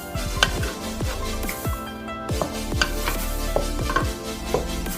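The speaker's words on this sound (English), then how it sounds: "And then I just mix that in together." Seasoning is mixed into fish in a bowl for Jamaican brown stew fish, giving quick, repeated clinks and scrapes in a busy, uneven rhythm, close and moderately loud, with no speech.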